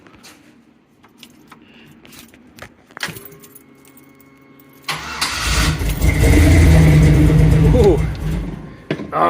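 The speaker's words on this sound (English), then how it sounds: "I want to see if this thing will fire over." A Jeep YJ with a fuel leak cranks over and fires up: keys jangle, the starter churns, then the engine catches about halfway through and roars loudly and steadily close by, with a brief exclamation from a person.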